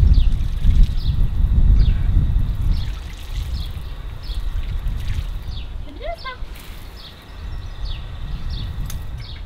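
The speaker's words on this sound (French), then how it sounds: "Je refais un petit peu de jet à distance pour qu'il ne s'inquiète pas de voir l'eau couler et changer de trajectoire" Water jet from a shower hose runs steadily at a short distance during a desensitisation session with a horse, a continuous splashing trickle with a few faint brief chirps over it.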